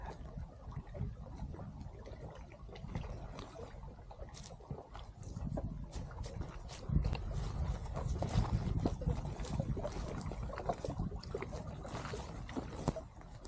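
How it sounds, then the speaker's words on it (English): Steady broadband rush of flowing water, continuous and moderately distant, with a faint breeze and no voices. "You can hear the water rushing up ahead there"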